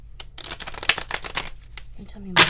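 Tarot cards shuffled by hand for a future-spouse reading, a quick run of close crisp riffling flutters with a louder snap near the middle and another at the end.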